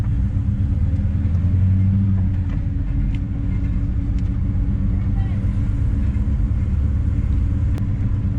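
Nissan Patrol GU four-wheel drive rolling along with mud tyres on the front and 33-inch tyres on the back, giving a steady, loud low rumble of engine and road noise throughout with no talk.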